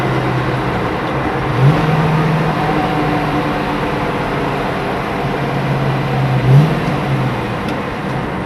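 A 1970 Ford Mustang Boss 302 engine drones steadily inside the car on a test drive, with two brief rises in pitch as it downshifts, loud and continuous.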